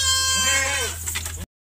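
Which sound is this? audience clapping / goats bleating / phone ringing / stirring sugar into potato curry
goats bleating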